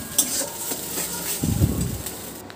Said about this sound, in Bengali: যতক্ষণ এর জল ছুটে যায় ততক্ষণ এভাবে নেড়ে যেতে হবে।